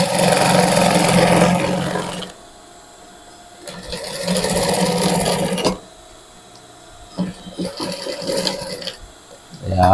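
Industrial sewing machine stitching a back garter onto a garment, running in loud bursts of a few seconds each, separated by quieter pauses with light handling noise.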